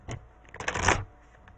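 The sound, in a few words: shuffling oracle cards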